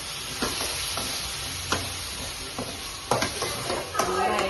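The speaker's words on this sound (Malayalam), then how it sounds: "നമ്മൾ ഉണ്ടാക്കി വെച്ചിട്ടുള്ള ആ മാങ്ങ അതിലേക്ക് ഇടുക." Pieces of sweet mango tipped into a hot pan with chili powder and curry leaves sizzle steadily while a spoon stirs with occasional scraping knocks, close by and moderately loud.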